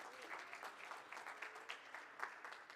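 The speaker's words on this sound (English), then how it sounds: "let us please give our choir a warm round of applause" An audience claps for a youth choir at an indoor event, steady applause with slightly uneven bursts, somewhat distant and fairly quiet.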